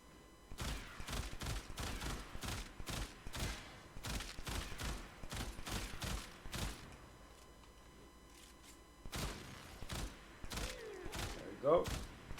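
Burston Prime rifle fire in Warframe comes in rapid sharp bursts of shots, loud and near, with short pauses between volleys and a quieter reload gap.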